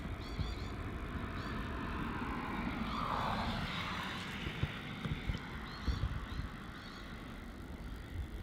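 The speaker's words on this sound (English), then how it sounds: "Departing off runway 27 is flight VA331 heading off to Brisbane. Another Virgin Australia" A Virgin Australia Boeing 737-800 departs runway 27 at Melbourne Airport, its jet engines roaring loud and steady, swelling slightly mid-clip, with faint scattered clicks nearby.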